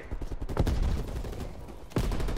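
Rapid gunfire in Call of Duty: Black Ops Cold War multiplayer, a quick string of sharp shots with a heavier sniper crack near the end, close and loud with no talking.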